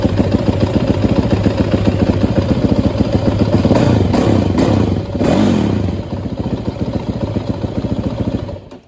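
A WR450F dirt bike engine with a freshly replaced battery runs loud and close, idling with a rapid clattering beat, swelling in a couple of brief revs midway, then cutting off at the end.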